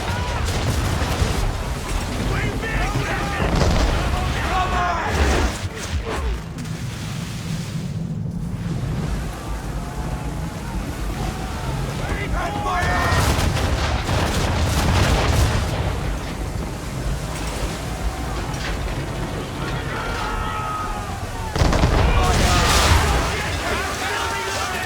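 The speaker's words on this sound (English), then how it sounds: "Fire! Fire broadside!" Broadside cannon fire from a sailing warship in the video game Assassin's Creed 3, a dense run of booming blasts and rumbling impacts over about 25 seconds, mixed with shouting crew and game noise throughout.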